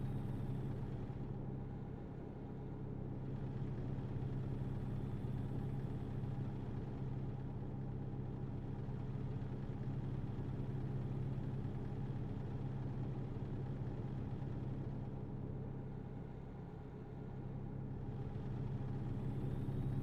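A truck engine idles in the TruckersMP truck simulator game, a steady low rumble with a constant drone that swells and dips slightly over about twenty seconds, heard alone.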